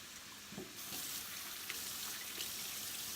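Tap water runs over vegetables being rinsed in a kitchen sink, a soft steady splashing hiss that swells after a moment with a few small knocks, fairly quiet and without speech.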